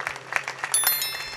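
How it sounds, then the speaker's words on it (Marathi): Kirtan listeners clap for the two cameramen, a scattered patter of hands that thickens midway, fairly close, with a faint lingering tone behind it. "दोन्ही कॅमेरामॅनसाठी एकदा टाळी वाजवा"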